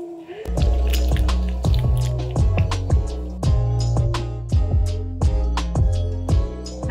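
A clay bowl being centered on a spinning pottery wheel produces wet, squelching slaps that repeat in a steady rhythm over a constant low motor hum, loud and close.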